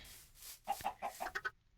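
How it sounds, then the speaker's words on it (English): Minecraft chickens cluck in a quick series of about six short, faint calls, fairly close and with no talking over them. "Chickens!"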